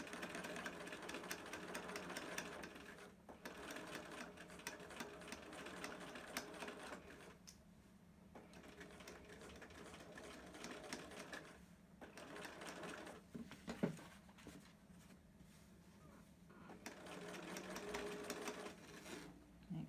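Sewing machine back-stitching a zipper pouch, its needle running in steady bursts with brief pauses between passes, close and moderately loud, no talking.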